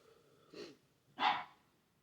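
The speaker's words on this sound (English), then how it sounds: "you'll hear my dog in the background just a second" A dog in the background makes two short muffled huffs or soft barks, the second louder, in an otherwise quiet room.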